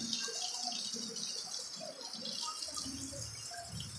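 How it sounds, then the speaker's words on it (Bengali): Heavy rain falling during a severe downpour, a continuous close hiss mixed with scattered drips and splashes of water landing nearby, steady in level throughout, no voices. "বৃষ্টি যা হচ্ছে মারাত্মক বৃষ্টি"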